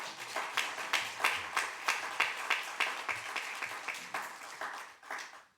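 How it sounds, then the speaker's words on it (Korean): Rhythmic group clapping from an audience at a university chapel service, welcoming a university president, steady and fairly close for several seconds before tapering off. "여러분 먼저 축하의 박수를 한번 하겠습니다."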